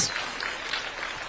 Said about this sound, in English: kindly let's give a round of applause to Mama Taifa for the wonderful gift.